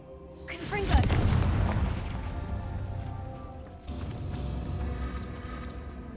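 A Confringo spell goes off in Hogwarts Legacy: a loud booming blast and crackling burst, followed by a rumbling tail and further game effects and music, with a voice briefly heard.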